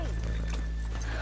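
Horses in the video game Red Dead Redemption 2 clop their hooves close by, and one gives a loud whinny over a low, steady in-game hum.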